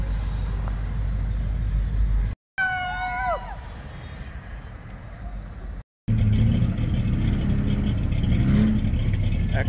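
A hot rod nicknamed Thunderstruck revs hard at a cruise night, a loud, steady engine rumble that drops out twice between bursts, with the throttle blipped repeatedly.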